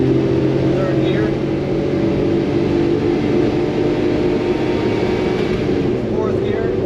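A kei truck fitted with 13-inch mud terrain tires accelerates in third gear, its engine droning steadily and loud throughout with wind and road rumble, while a person talks over it.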